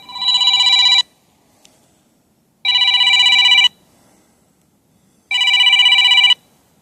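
Electronic phone ringtone for an unknown caller, sounding in three loud, even one-second bursts spaced by gaps of near silence.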